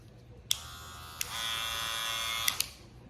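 A Wahl Magic Clip hair clipper buzzes steadily at close range for about a second, switching on with a sharp click and cutting off with a couple of clicks, with no talk.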